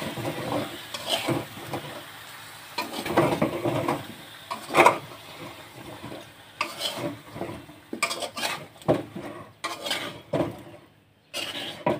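A lid placed over a pot of cooking cauliflower, with scattered clanks and scraping of metal cookware amid faint sizzling, the knocks irregular and close.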